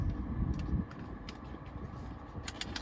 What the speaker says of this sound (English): As you can hear the air conditioner going, that does work.